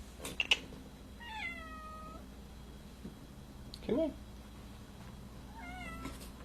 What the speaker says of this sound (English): Where are you, big kitty cat?